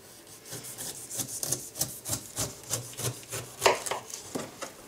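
A knife trims the sides off a pineapple skewered on a rotisserie spit, producing repeated rhythmic rasping cuts, about a dozen strokes, close and moderately loud.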